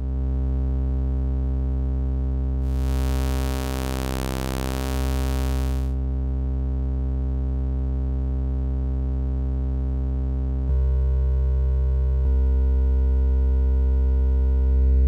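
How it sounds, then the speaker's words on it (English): VCV Rack patch with a simple oscillator run through a CV-controlled wave shaper that turns a sine into a ramp or square: a sustained buzzing synth tone with rich harmonics, a noisy hiss swelling in briefly, and timbre shifts as the modulation changes. "it is a simple oscillator with CV-controlled wave shaper that turns a sine wave into a ramp or a square"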